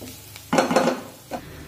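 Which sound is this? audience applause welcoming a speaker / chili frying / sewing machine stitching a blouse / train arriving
chili frying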